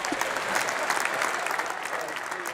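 Studio audience applause from a talk show crowd, steady and moderately loud throughout, with faint voices mixed underneath.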